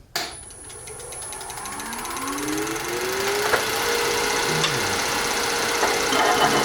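A 5/8 inch Crown bowl gouge cuts a green poplar bowl on a spinning wood lathe, giving a steady, continuous rough whirring and scraping, loud and close, with a rising tone as the lathe spins up.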